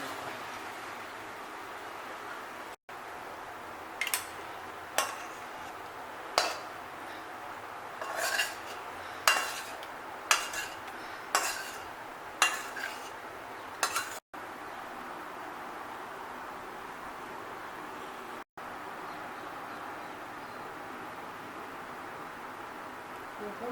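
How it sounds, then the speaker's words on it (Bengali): Spoon scraping and clinking against a cooking pot while stirring Dhaka-style muri ghonto, about eight sharp metallic strikes in a row, then quieter steady background. "হাইতে ঢাকনা তুলে নেওয়ার পরে একটু হাই দিয়ে তারপরে ভালো করে একটু নেড়ে চেড়ে তারপরে নামিয়ে নেবো।"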